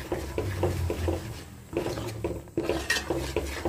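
A spoon stirs and scrapes through poha halwa cooking in ghee in a pan, in rhythmic bursts of rubbing and clinking against the metal, pausing briefly between rounds of stirring.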